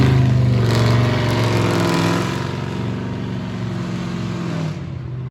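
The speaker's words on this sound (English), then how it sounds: "has an 800 horsepower cammed out V8 muscle car that he decided, 9 o'clock in the morning, he was going to start up" An 800-horsepower cammed V8 muscle car engine running outside in the morning, a loud, steady, lumpy rumble that eases slightly midway before cutting off abruptly.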